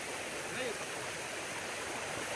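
Loud rushing monsoon stream water roars steadily throughout at Malshej Ghat, a broad constant wash of flowing water close by.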